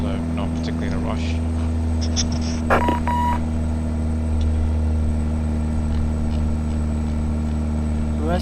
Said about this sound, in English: That's a CB radio going off.